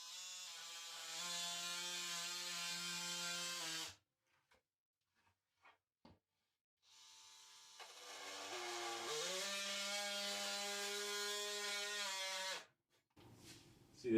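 A multi-tool buzzes steadily through sheetrock drywall in two close, loud cutting bursts separated by a few seconds of near silence, with small taps and handling noises in the gap.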